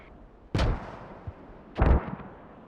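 Mortars fire twice during a competitive video game match, each a heavy, deep boom with a short rumbling tail about a second apart, and a faint thud between them.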